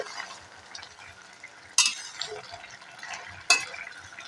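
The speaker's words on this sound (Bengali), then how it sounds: "আমি একটা পাত্রের মধ্যে ঢেলে নেব" A cooked leafy greens and peanut dish being scraped from a pan into a bowl: quiet spoon scraping broken by two sharp metal clanks, with no one speaking.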